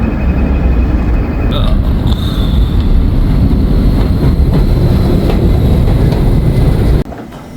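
A New York subway train pulls into the Times Square 40th Street station on a snowy day, with a loud, continuous rumble and a few brief high squeals before it cuts off abruptly near the end.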